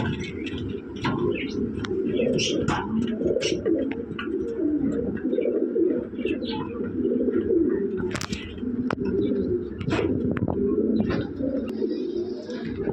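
Red Lahori breeding pairs of pigeons coo steadily throughout a busy pigeon house, with overlapping soft calls, occasional chirps and wing shuffles, nearby and moderately loud.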